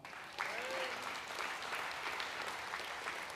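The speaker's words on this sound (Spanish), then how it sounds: "Le damos un aplauso al Señor." Church congregation clapping for the Lord during a sermon, a steady, moderately distant round of applause with a faint whistle early on.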